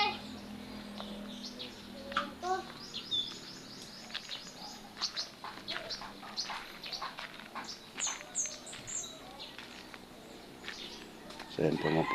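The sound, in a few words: bird being fed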